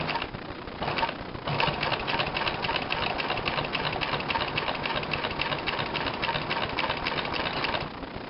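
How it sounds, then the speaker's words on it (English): A Consew 226 leather sewing machine driven by a servo motor runs up to speed and holds there. It gives a steady, fast, rhythmic mechanical clatter under a motor hum, close and continuous for several seconds without talk. "I'll hold the pedal down, you'll see it ramp up."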